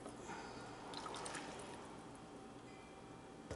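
Dry rice poured from a bag into a measuring cup for lentil soup and jambalaya, a steady close granular patter and rustle lasting several seconds, heard on its own without speech.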